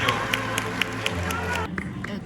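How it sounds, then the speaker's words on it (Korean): Wedding guests clap for the bride and groom in a quick, even rhythm. The claps sit beneath voices and tonal background sound, then fade near the end. "뜨거운 박수 부탁드립니다."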